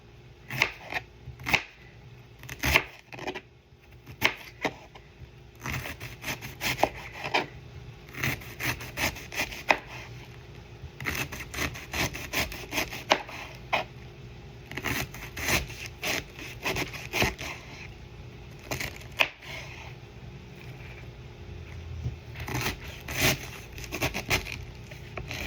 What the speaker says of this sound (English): Now we have our washed half a head of cabbage dried off. Just gonna cut it on down.